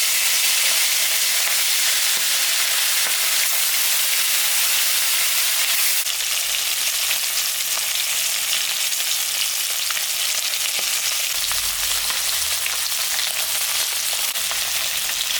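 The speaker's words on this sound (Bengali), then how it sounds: "আমি এখন মাছ ভাজবো। সর্ষের তেল দেব" Mrigal fish frying in hot mustard oil in a kadai, a loud, dense, continuous sizzle close up that grows brighter partway through, with no talk.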